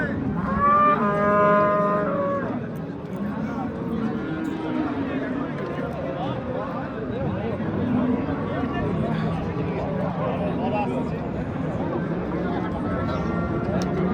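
A cow moos loudly with a long harmonic call at a livestock market in Oqtepa, Bulungur district, Uzbekistan, then a busy crowd of voices and animal noise continues underneath throughout.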